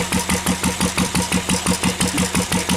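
A Lister engine runs on diesel with a steady, regular chugging beat, loud and close, each firing stroke clearly separated in an even rhythm.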